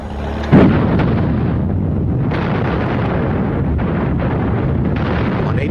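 The Red Army's 1945 artillery barrage on Berlin: a heavy boom opens a dense, continuous rumble of distant and nearer blasts that rolls on without letup.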